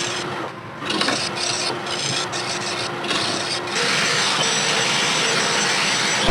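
Abrasive paper rasps against a spinning rosewood bowl on a wood lathe, a steady close hiss with a few brief dips early on, then a louder continuous grinding wash that holds to the end.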